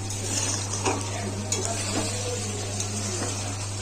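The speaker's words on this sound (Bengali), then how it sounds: "খাসি মাংসটা এবার আমি ভালো করে কষিয়ে নেব" Goat meat (mutton) sautéing in a pan for a curry, with a steady low sizzle and occasional scrapes and clinks of a spoon stirring against the pan, close and continuous with no talking.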